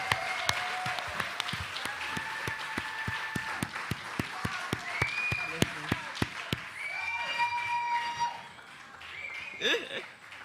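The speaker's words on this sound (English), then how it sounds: "Please give her another warm round of applause." An audience at the Rototom Sunsplash reggae festival claps in a steady round of applause, the rhythmic claps standing out through a tonal, music-like bed, with voices surfacing near the end as the clapping thins.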